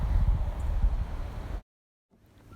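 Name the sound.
wind in the backyard trees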